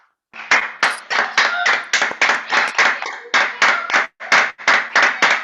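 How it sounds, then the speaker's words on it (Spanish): Scattered clapping from a few people over open microphones on an online political talk call, a quick run of separate sharp claps in rhythmic clusters, close and fairly loud. "abrir los micrófonos, Horacio, y así lo aplaudimos."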